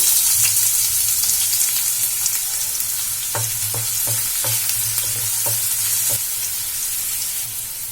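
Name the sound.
chopped onion frying in oil in a pan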